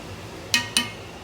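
A utensil scrapes and clinks twice against a pot while stirring mac and cheese, two quick metallic knocks under a low steady kitchen background.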